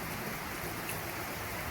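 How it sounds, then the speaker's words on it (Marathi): Heavy rain falls outside a building's parking area, a constant soft hiss and patter that stays even and fairly quiet throughout. "एवढा जोरात पाऊस पडतोय तरी."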